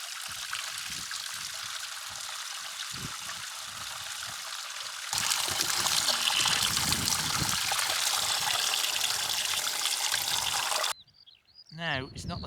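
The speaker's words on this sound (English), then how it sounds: "I have found a little trickle here that looks reasonable" Small mountain stream in the North Pennines trickling and splashing, a soft steady flow near at hand that swells louder midway, then cuts off into brief rustling handling noise.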